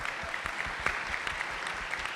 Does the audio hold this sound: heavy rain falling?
no